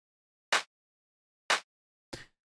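Clap snare sample from a deep house pack, struck three times alone: two crisp, identical hits a second apart, then a slightly softer, rougher third hit, each short and bright with nothing between.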